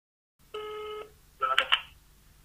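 Telephone touch-tone dialing beeps: a steady tone burst, then a quick cluster of dial tones, as a call is placed to a firm issuing taxi permits, close and clear over a quiet background.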